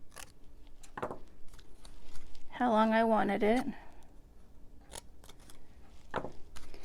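Scissors make a few sharp snips through paper for a stamped planter box, short crisp clicks spread across the moment, with a person talking over them at close range.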